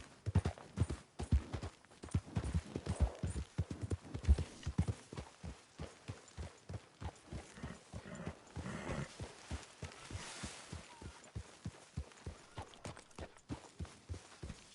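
Horse hooves clip-clop in a steady, even rhythm in the video game Red Dead Redemption 2, close and continuous throughout, with no voices.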